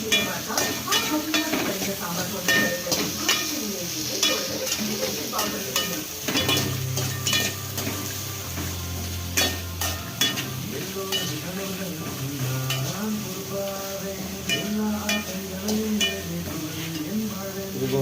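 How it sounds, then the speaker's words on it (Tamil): Sliced large onions sautéing and being stirred in a pan for a tamarind okra curry, a steady sizzle with scraping spoon strokes throughout, plus a low humming drone entering midway. "நல்லா வணக்கி விட்டுக்கலாம்."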